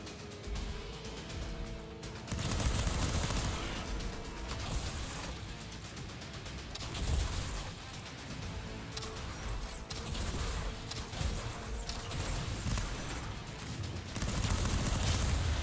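Rapid assault rifle fire in the side-scrolling shooter Fury Unleashed, loud and nearly continuous with bursts, explosions and game effects layered over a busy soundtrack, no voices.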